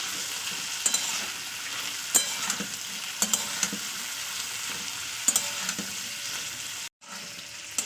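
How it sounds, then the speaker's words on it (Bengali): Green chillies and crushed garlic fry in oil with a continuous close sizzle, broken by occasional clinks and scrapes of stirring and a brief dropout near the end; nobody speaks. "কাঁচা লঙ্কা যে রসুনটা দিয়েছি সেটা আমি একটু তেলে ভাজা ভাজা করে দিলাম"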